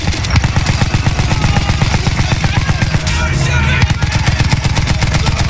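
Rapid automatic gunfire rattles continuously in Battlefield 1, dense repeated bursts stacked with other weapon reports, loud and sustained throughout with battlefield noise underneath.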